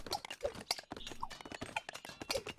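Horse hooves clip-clop in the real-time strategy game 0 A.D. as cavalry move about, a busy run of quick, overlapping hoofbeats at moderate volume with no voices.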